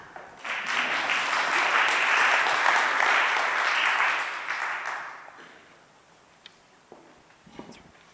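Digital health conference audience breaks into applause, swelling quickly and holding for about four seconds before fading out, leaving a quiet room with a few scattered knocks.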